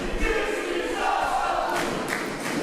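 A wrestling crowd at an RSW match between Akira and Ashley Dunn chants "this is awesome", a loud, dense roar of many voices with rhythmic swells and thuds from the ring.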